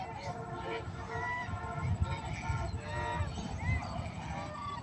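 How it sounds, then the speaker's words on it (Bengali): A flock of geese honks repeatedly, overlapping calls rising and falling in a busy chorus at moderate distance, with a low background rumble underneath. "দেখেন কতগুলো রাজহাঁস"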